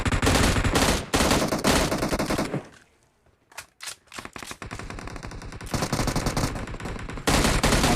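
Bursts of M16 rifle fire in a battle royale video game: loud, rapid automatic volleys broken by a short quiet gap, then more sustained firing, with no talk.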